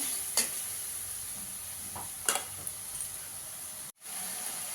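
Spice masala for aloo dum sautés in a pan with a soft, even sizzle and a few brief stirring scrapes, close but fairly quiet, with no talking and a short dropout near the end.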